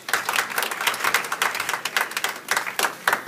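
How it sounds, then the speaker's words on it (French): Applause from an audience at a gathering introducing members of an association's board, steady dense clapping throughout, moderately loud and close, with no clear voices over it. "Applaudissez pour elle."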